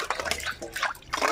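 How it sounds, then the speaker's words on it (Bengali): Water splashes and trickles over brass utensils as they are rubbed and rinsed by hand, close by, in short uneven bursts. "এবার প্রত্যেক জিনিসটা ভালো করে ধুয়ে নেব, একটু এইভাবে ডলে ডলে ধুয়ে নেব পরিষ্কার করে"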